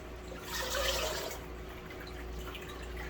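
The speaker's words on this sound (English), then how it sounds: "I filled the salad spinner with water and my lettuce, giving it a really good rinse" Water sloshes and trickles as lettuce is rinsed in a salad spinner filled with water, a soft splash swelling early then settling into a steady close, gentle liquid wash.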